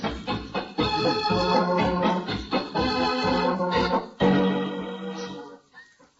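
An organ carries a bright, sustained melody in short phrases, with held chords swelling and fading, alone and fairly close.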